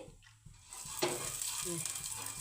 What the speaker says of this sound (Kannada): ಬಿಸಿಯಾಗಿದ್ದು ಗೊತ್ತಾಗ್ತಾ ಇದೆ, ಚುರು ಅಂತ ಇದೆ